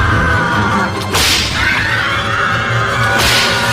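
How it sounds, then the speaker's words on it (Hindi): Two sharp whip cracks, the first near the one-second mark and the second just after three seconds, each a loud bright snap over a dense, rumbling dark background. "सेल के अंदर एक चाबुक चलने की आवाज हुई"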